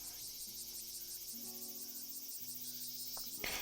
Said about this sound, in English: I hate cicadas so much.